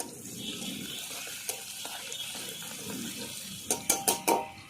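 Cumin, ginger, garlic and chili pastes go into a frying pan with a soft sizzle and stirring, then a quick run of four sharp spoon taps against the pan near the end.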